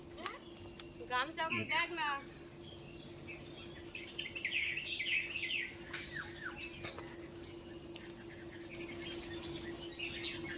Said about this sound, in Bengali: সকালে পাখির কলরব শুনতে পাচ্ছেন